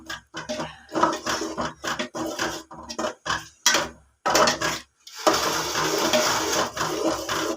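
Ground onion paste goes into an achari mutton curry in a pot, with close, uneven spoon clatter and metal scrapes at first, then a steady, dense sizzling rush.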